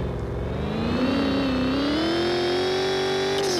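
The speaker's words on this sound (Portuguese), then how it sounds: "Acelera esse carro aí, velho." Engine of a car in the Carros Rebaixados Online racing game revs up steadily under acceleration, its pitch climbing smoothly and holding loud and close for a few seconds with no talk over it.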